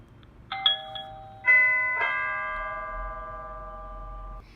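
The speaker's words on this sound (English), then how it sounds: "When the doorbell button is pressed, the chime will play the melody that you selected." A Tecom C1030 Wi-Fi doorbell chime plays its selected melody, a few clear bell-like tones struck in sequence, the last one ringing out and slowly decaying, loud and close with no voices.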